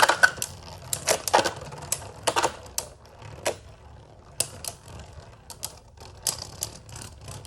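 Beyblades Lord Spriggan and Bushin Ashura spinning in a stadium, sharp irregular plastic clacks and clashes bursting over a faint whirring background, some hits in quick clusters and others spaced apart.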